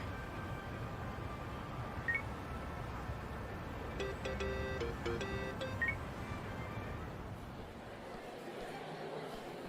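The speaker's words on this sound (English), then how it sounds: "Kasuga, call me on your phone." A mobile phone being dialed in the game Yakuza Like A Dragon chirps with short keypad-style beeps in quick clusters over a murmur of background crowd chatter, fairly faint.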